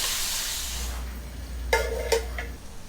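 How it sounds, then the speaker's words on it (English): Seasoned shrimp hits a hot frying pan and starts to sizzle, giving a steady hiss with a couple of sharp clinks of a utensil against the pan partway through. The sound comes from close by, and no voices are heard. "we're going to go ahead and we're going to add our perfectly seasoned shrimp"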